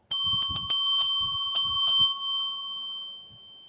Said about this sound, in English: Oh, here's my bell.